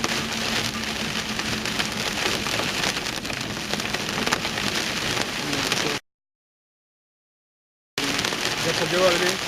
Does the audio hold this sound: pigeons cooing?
no